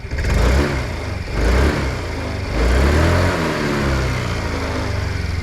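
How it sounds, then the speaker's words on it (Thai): A 2021 Yamaha Grand Filano Hybrid scooter revved to high rpm in close surges, the engine roaring up, dropping back and climbing again, with no talk over it. "เดี๋ยวมาฟังเสียงเครื่องยนต์รอบสูงๆกันหน่อยนะครับ"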